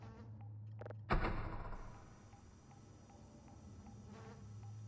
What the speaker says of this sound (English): I hope these wasps aren't going to become a problem.